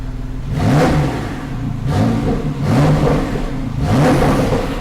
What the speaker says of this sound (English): put it into sport mode and you will hear the exhaust note rise just ever so slightly